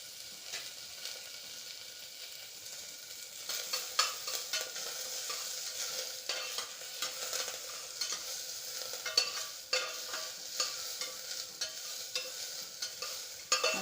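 Sliced onion and curry leaves sizzle in hot oil with mustard seeds for a vegetable kurma, a steady close frying hiss broken by repeated stirring scrapes, with no talk.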